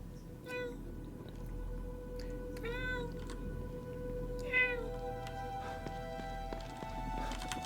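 A cat in the video game The Evil Within 2 meows several times, short clear mews spaced a few seconds apart over a low, humming game ambience.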